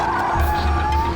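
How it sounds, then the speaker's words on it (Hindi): A car brakes hard to a stop on a deserted road, its tires giving a sustained, close squeal for about a second with no voices over it. "गाड़ी रोको"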